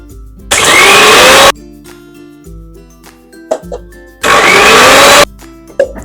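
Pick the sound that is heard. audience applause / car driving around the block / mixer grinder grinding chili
mixer grinder grinding chili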